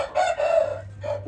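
An Aseel rooster crowing close by, a single short, loud call with a rising first note and a drawn-out middle, heard alone over a low hum.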